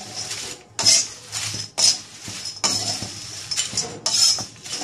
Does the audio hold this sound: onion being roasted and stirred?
yes